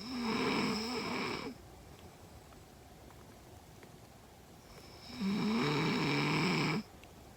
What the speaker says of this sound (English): And you snored really loud.